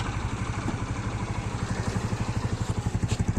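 A Honda CBR 125 motorcycle engine idles close by with a steady, rapid low thumping pulse and a faint mechanical clatter on top.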